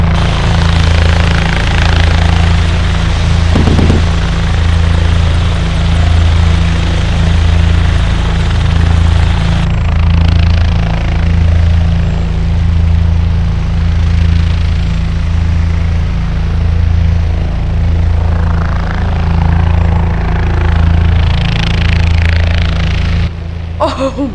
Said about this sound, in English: Oh man, I love driving helicopters.